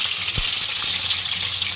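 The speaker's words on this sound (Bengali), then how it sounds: "তেলটা গরম হয়ে গেছে, এবার ডিমগুলো ভেজে নেব" Eggs frying in hot oil in a pan for egg curry, giving a steady bright sizzle with a soft low thump near the start.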